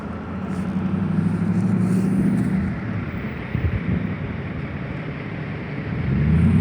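A truck passes by on a road, a loud, broad rumble that swells, eases briefly midway, then rises again with some wind buffeting.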